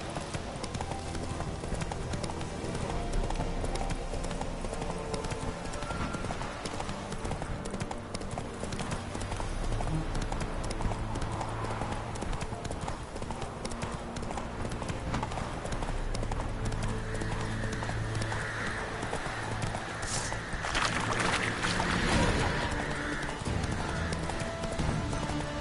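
Hooves of Roach, Geralt's horse in The Witcher 3, clip-clop in a steady trotting rhythm over the full stretch, with a brief whinny and game ambience layered beneath.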